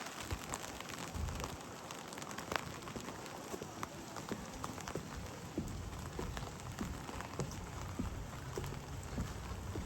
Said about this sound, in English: Cold and rainy day here in Conway.